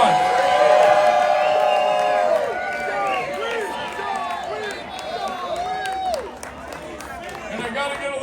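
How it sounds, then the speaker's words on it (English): A crowd at a Christmas gathering in St. Petersburg, Florida claps and cheers, with whoops and shouts rising over steady applause that stays loud and close throughout. "give them a big round of applause"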